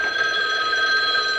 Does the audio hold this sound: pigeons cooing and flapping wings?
no